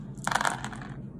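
Dice for a Warcry tabletop game rattle briefly as they are rolled, a quick cluster of small clicks lasting under a second, close and fairly loud.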